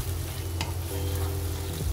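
Marinated chicken sizzles with well-sautéed onions for an Afghani chicken gravy, a steady close frying hiss with soft stirring and a brief scrape partway through, no voices.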